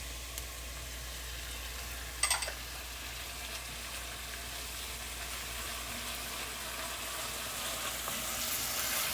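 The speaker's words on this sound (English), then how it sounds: "Then I'm going to come in with my red pepper." Red pepper sizzles steadily in a hot pan, a continuous close crackling hiss with one brief scrape partway through and no talking.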